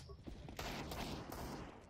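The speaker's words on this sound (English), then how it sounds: "There's gunfire." Gunfire in the Counter-Strike: Global Offensive video game, a dense, noisy burst of rapid shots erupting midway and continuing, fairly faint overall and heard through the game mix.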